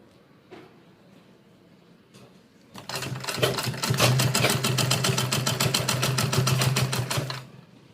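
Sewing machine stitching folded tucks into fabric for a vegetable organiser bag, running in a steady, fast, even rhythm of needle strokes for about five seconds before stopping. A few faint handling taps come before it starts. No one speaks.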